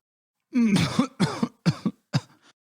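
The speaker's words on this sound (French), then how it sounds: "Je viens de tousser." A person coughs several times in a row, the first cough long and harsh, followed by three shorter, sharper coughs, close and loud.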